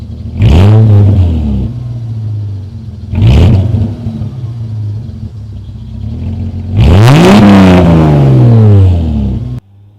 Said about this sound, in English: I'll give you a little 2K rev just so you can hear it.